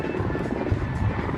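A helicopter passes overhead, giving a steady low rotor drone throughout, with some talking over it.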